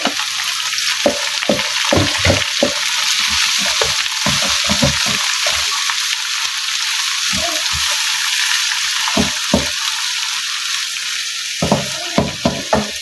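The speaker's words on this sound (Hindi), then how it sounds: "और बस इसमें अब मैं ये पालक ऐड करूंगी" Fresh spinach added to light-brown frying onions in a pan for aloo palak sabzi, a steady loud sizzle broken by frequent scraping and stirring knocks and clatter, no talk.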